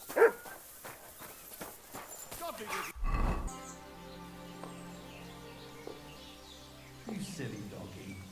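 A dog barks a few times in the medieval video game Kingdom Come: Deliverance 2, mixed with hoof clops and footsteps, while voices talk over parts of the scene.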